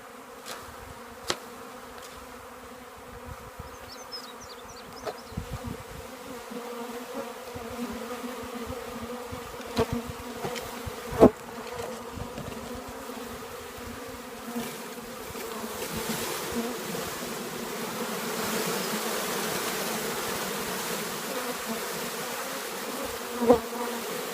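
A package of honeybees being installed into a hive fills the air with a steady, swelling buzz of many insects, punctuated by a few dull knocks as the package is bumped against the ground.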